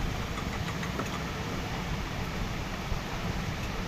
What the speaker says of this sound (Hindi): पहले इंजन बहुत हिल रहा था, मिसिंग हो रहा था, अभी देखिए एकदम परफेक्ट है